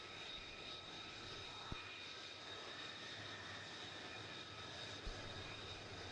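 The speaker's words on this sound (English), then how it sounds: "from the left, the Super Hornet minimum radius turn" An F/A-18 Super Hornet in afterburner flying a minimum radius turn at NAS Oceana Air Show, a faint, distant, steady jet rumble with a couple of brief knocks, and no talk.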